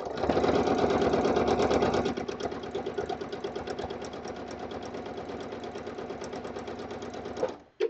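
Janome 9450 sewing machine stitching steadily during free motion quilting: a loud, continuous fast-pulsing mechanical whir close by that slows slightly partway through, then stops abruptly at the end.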